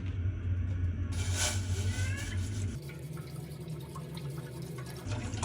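About 1.5 litres of milk is poured into a pot for making paneer, a steady liquid stream that splashes and gurgles, close and fairly loud, then eases off toward the end.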